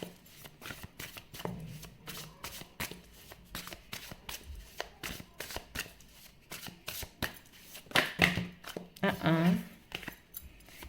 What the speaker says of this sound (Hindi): इतने सारे कार्ड्स नहीं, मदर यूनिवर्स, सिर्फ एक कार्ड दीजिए मुझे